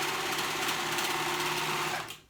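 A sewing machine runs steadily as it stitches fabric panels for a simple skirt, a close, continuous whir that stops abruptly at the end.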